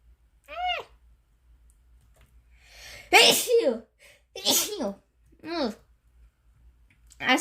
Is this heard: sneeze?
yes